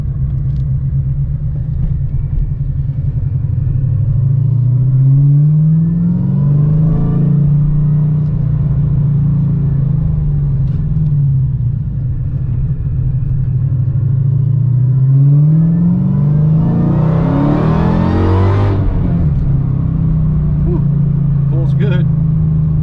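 A Whipple-supercharged Dodge Challenger Scat Pack engine with CNC-ported heads idles with a loud, deep rumble and rises in two moderate revs, the second climbing higher before settling back, close and sustained.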